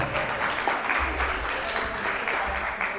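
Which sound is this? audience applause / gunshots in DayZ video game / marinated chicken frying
audience applause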